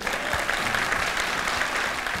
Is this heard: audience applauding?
yes